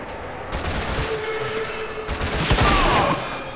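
Gunfire rattles in the first-person shooter Rage as rapid bursts of shots crack out over about three seconds, loud and close, with no speech.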